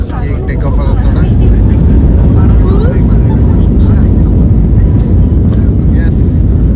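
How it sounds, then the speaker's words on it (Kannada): Inside the cabin of a passenger flight from Bengaluru to Goa, the engines roar loudly and steadily during takeoff, a dense constant rumble while passengers talk over it. "ಈಗ ಟೇಕ್ ಆಫ್ ಆಗತ್ತೆ ನೋಡ."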